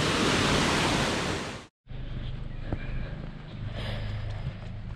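River water near Waverley Abbey gushes loudly as a dense, steady roar, then cuts off briefly before a quieter, continuous flowing rush with faint wind.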